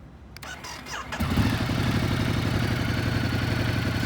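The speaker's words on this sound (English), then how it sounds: "let me fire up the bike so you can hear what it sounds like" A 2018 Ducati Multistrada 1200 Enduro Pro motorcycle engine cranks with a few brief starter bursts, then catches and settles into a loud, steady, throbbing idle close by.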